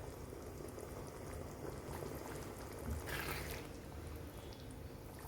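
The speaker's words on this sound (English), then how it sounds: "That has been boiling away for 2 minutes now." Coconut gravy for a paneer and potato curry bubbling steadily in a pot, a soft continuous simmer with faint popping, heard alone at low level.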